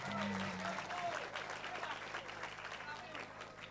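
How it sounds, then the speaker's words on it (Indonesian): An audience at a Quran memorization graduation ceremony at an Islamic boarding school applauds. The clapping is soft and continuous, with a voice briefly heard at the start. "Tepuk tangan untuk Arinal Haq"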